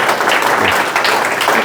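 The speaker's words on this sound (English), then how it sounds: "I want a big round of applause for Larry." An audience at a community gathering about the Roseville railyard disaster gives a loud, steady round of applause, dense clapping filling the room without a break.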